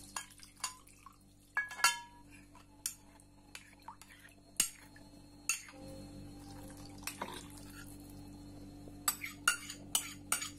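A pot of onion dolma with tomato paste being stirred, heard as scattered clinks and scrapes of a utensil against the pot over a faint background hum, with quiet gaps between strokes.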